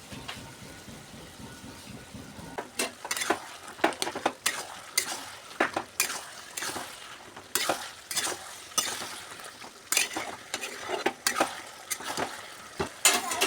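Cabbage, potato and fish head curry frying in a pan with ground garam masala, a low sizzle under repeated sharp clinks and scrapes of a metal spoon stirring against the pan, loud and close.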